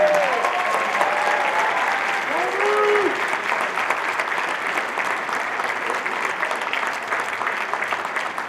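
A full round of audience applause rises for the students at a high school winter concert, thick and sustained throughout, with a voice briefly heard through it.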